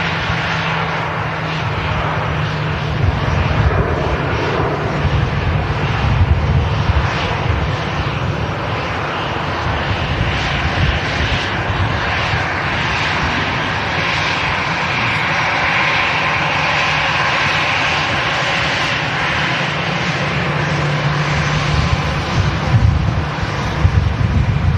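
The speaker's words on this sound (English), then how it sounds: "We're going to capture the Finnair departure." Finnair jet airliner departing Manchester Airport, a steady loud roar of engines held throughout, heard outdoors with wind buffeting the microphone.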